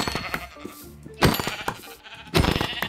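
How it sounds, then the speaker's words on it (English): Sheep in Minecraft bleat twice, each a short loud wavering cry about a second apart, over a soft background of game sounds with no talking. "Look at all the sheep."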